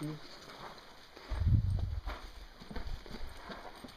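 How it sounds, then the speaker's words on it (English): Hooves clop steadily at a walking pace nearby, a few horses moving over hard ground with some low rumbling and faint voices in the background. "A couple horses."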